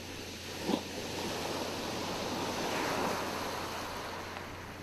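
Calm ocean waves wash steadily around a wooden boat out at sea, a soft continuous surf rumble with gentle swells and a light breath of wind, quiet and unbroken.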